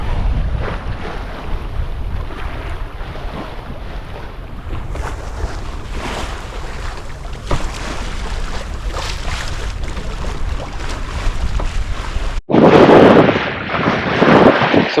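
Sailboat under sail heading toward Long Beach at about five knots, with steady rushing wind, buffeting microphone gusts and low water wash throughout, ending in a louder burst of close wind noise.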